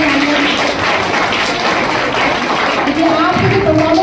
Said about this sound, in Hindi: जो बच्चे यहाँ प्रोग्राम किए हैं उन सभी के लिए जोरदार तालियां